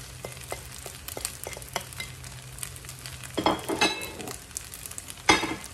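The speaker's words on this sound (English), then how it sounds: "And now we're gonna add our eggs and our bacon." Eggs and bacon for bacon and egg fried rice frying and being stirred in a pan, a steady low sizzle with scattered clicks of a utensil, growing busier with louder scraping bursts toward the end.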